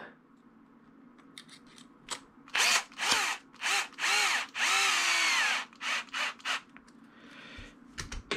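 A power drill drives screws while a Hobao Hyper GTB RC car is assembled, in a series of short close whirring bursts with one longer run and brief pauses between.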